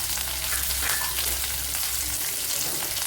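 Curry leaves, ginger, green chillies and garlic frying in hot oil produce a loud, dense, continuous crackling sizzle, close and unbroken throughout.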